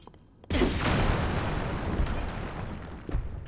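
A sudden loud cannon blast in Zelda: Tears of the Kingdom, starting with a sharp onset and then a long rumbling, roaring tail that continues for a few seconds.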